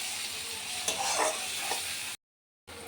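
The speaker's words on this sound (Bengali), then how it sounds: "তো এবার আমার পেঁয়াজ দিয়ে রসুন দিয়ে ভাজা হয়ে গেছে।" Onion and garlic frying in a pan, a close steady sizzle with a few stirring scrapes, then a brief moment of silence before the sizzle returns.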